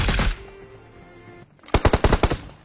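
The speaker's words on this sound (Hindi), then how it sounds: "एक बॉट दिखता है जो कि फायरिंग करता है" Automatic gunfire in the PUBG video game: a loud burst opens, then fades to a lull before a rapid string of about seven sharp shots closes out.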